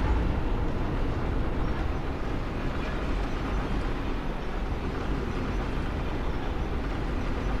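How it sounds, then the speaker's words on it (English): Elevator ride in the video game Bloodborne, a steady low mechanical rumble with rattling, continuous and fairly loud throughout with no talking. "Send the elevator back down."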